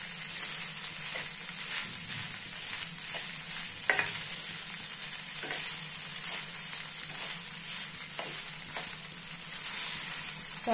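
Poha sizzles steadily in a hot pan while a spoon stirs and scrapes through the flattened rice, with soft repeated clinks over a constant frying hiss, close and moderately loud.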